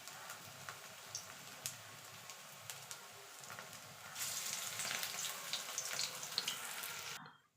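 Mustard flower fritters dropped into hot oil in a pan, a steady close frying hiss that swells louder and brighter partway through as more batter goes in, with faint crackles and no voices.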